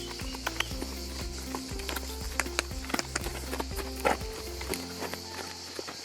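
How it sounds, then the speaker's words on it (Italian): A horse circles around on the ground, its hooves sounding a steady series of clip-clop footfalls at moderate distance, with faint background murmurs. "il cavallo gira intorno a noi"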